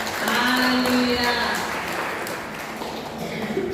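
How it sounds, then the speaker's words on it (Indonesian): A congregation at a Sunday SIB church service applauds in a continuous patter, with voices and cheering mixed in over the clapping. "Mari kita beri tepuk tangan."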